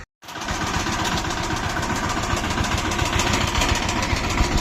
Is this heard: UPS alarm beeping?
no